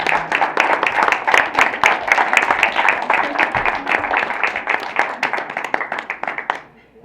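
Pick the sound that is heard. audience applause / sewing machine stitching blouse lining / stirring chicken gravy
audience applause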